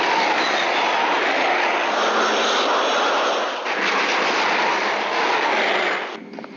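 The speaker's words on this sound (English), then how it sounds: "Unidentified aircraft," A delta-winged, high-tailed aircraft roars overhead in a steady loud jet wash that swells slightly and fades near the end.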